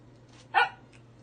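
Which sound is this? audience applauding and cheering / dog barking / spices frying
dog barking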